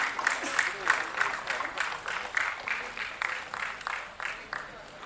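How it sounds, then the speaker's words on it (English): Audience applause at a business panel event on generative AI as a panelist walks up to the stage, steady clapping with a voice talking over it throughout. "A round of applause as he walks up to the stage"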